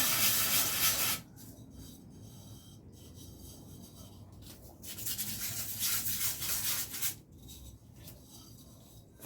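Someone sands a flower pot by hand, producing rough, raspy scraping in bursts of several seconds separated by quieter pauses, close and fairly soft.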